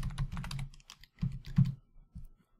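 Keystrokes on a computer keyboard while entering C# code in Visual Studio, a few close bursts of clacking separated by short pauses.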